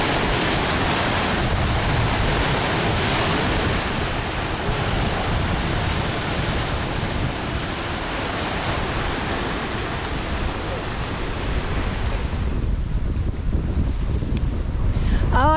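Sea water surging through a rocky coastal gully on Barry Island, a steady loud roar of waves and wash with wind buffeting the microphone, dropping off sharply near the end.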